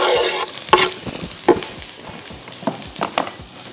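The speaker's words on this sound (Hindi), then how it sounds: "और इसको बस 1 मिनट के लिए आपने इस तरह से फ्राई कर लेना" Garlic and vegetables stir-fry in hot oil, a crackling sizzle broken by repeated sharp scrapes and knocks of a spatula against the pan at an uneven rhythm.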